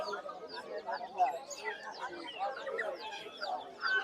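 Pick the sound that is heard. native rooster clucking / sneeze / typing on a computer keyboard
native rooster clucking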